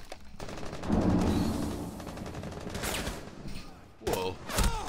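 Rapid automatic gunfire rattles in bursts during a Rainbow Six Siege firefight, loud and close, with sharper single shots near the end and a voice talking over parts of it.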